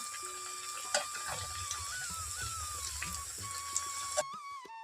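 Onion pakora frying in hot oil makes a steady, faint crackling hiss with a few small pops, fairly quiet throughout, before the sound cuts off near the end.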